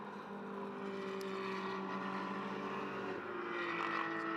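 Porsche 911 race cars with flat-six engines passing on track at Mugello during a GT sprint race, a distant sustained engine drone with shifting pitch, fairly faint, no talk.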